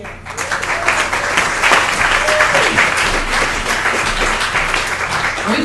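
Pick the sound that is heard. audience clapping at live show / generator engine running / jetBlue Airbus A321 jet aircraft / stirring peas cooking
audience clapping at live show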